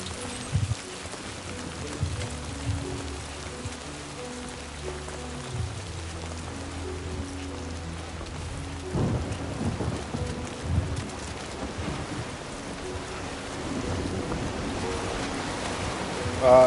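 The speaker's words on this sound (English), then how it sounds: "The sun still be out and it be raining." Steady rain with low rumbles of thunder fills a scene in the video game Death Stranding 2, a continuous hiss with occasional louder rolls under faint background sound.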